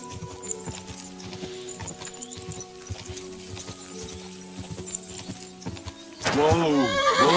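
Horse hooves clip-clop steadily in the video game Kingdom Come: Deliverance 2, a rhythmic series of close hoofbeats followed by a loud, wavering whinny at the end, set over game sound and a low musical hum.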